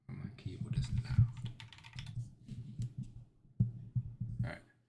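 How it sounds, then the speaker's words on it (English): Loud clattering computer keyboard typing, dense and rapid keystrokes in bursts with short pauses, close and dominant. "my keyboard is loud"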